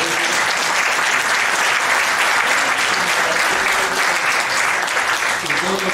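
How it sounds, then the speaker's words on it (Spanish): An audience at a cultural centre performance gives a long, sustained ovation, dense and loud clapping that holds steady from start to finish. "Por favor, le doy un buen aplauso por mi trabajo."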